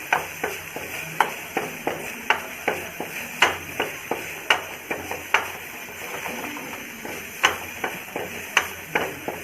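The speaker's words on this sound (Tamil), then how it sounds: "நெய் எடுத்துட்டு ஒரு பாதி சின்ன அளவுக்கு தேங்காய் எடுத்துருக்கேன். அது கொஞ்சம் நம்ம வறுத்துக்கலாம்." Coconut pieces roasting in hot ghee in a pan, with a faint steady sizzle broken by regular, sharp clinks and scrapes of a spoon stirring against the metal, close and alone.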